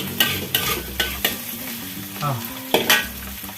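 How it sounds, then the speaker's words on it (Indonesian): Sour eggplant (terung asam) is stir-fried in spice paste, with rhythmic scraping and knocking of a spatula against the pan repeating every half second or so over a soft sizzle, close and clear with no talking. "baru kita masukkan terung asamnya ya, kita tumis terung asam"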